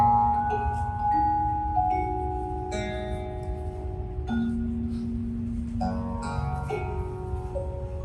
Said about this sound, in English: This is the sound of Wikipedia being edited.